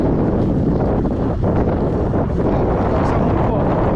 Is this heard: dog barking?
no